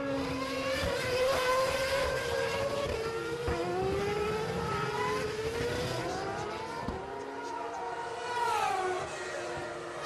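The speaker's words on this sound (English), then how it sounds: "So the cars coming across the start-finish line for a curious start to this Japanese Grand Prix" Formula One cars at the 2007 Japanese Grand Prix stream past behind the safety car in the wet, a loud continuous engine whine rising and falling in pitch as several cars pass close by, with overlapping tones and no audible talk.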